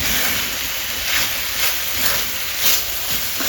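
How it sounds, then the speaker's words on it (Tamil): Chicken and masala sautéing in an iron pan for a Mughlai chicken curry, giving a steady, close hiss and sizzle that swells gently a few times without letup. "வதக்கும் போது வந்து உங்களுக்கு சிக்கன் வேக ஆரம்பிக்கும்"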